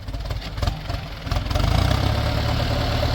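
A Ford 6640 turbo tractor engine runs while planting sugarcane in a field, a loud, steady low diesel chug that rises a little partway through and holds close to the listener.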